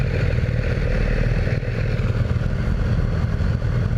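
A 2018 BMW S1000R motorcycle engine drones loud and close with steady wind buffeting while riding, its rumble holding constant through the gear changes as the rider downshifts.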